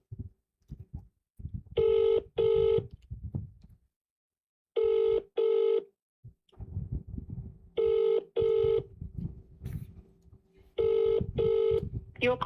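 An outgoing phone call rings out unanswered, paired double ring tones repeating about every three seconds, four cycles in all, with a voice talking in the gaps between rings.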